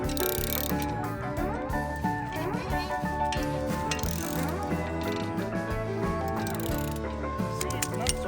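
A ratchet cranks something down while a shop is being built, giving rapid, close clicking in repeated bursts with metallic mechanical rattles, and a voice comes in now and then.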